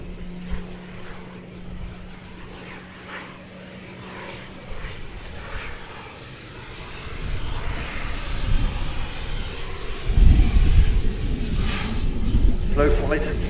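A turboprop aircraft flies past slowly at an airshow, its engine rising from a distant hum to a loud close roar, with someone talking over it.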